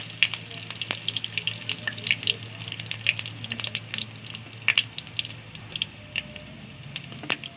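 Mustard seeds, cumin and green chili fry in hot oil, giving irregular sharp pops and crackles over a low, steady sizzle, close and fairly quiet.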